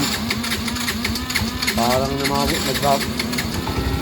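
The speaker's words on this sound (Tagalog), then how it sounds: "Parang palyado pa rin." A Yamaha Mio i125 scooter engine misfiring and idling roughly, with an uneven, sputtering putter close by; someone talks over the engine throughout.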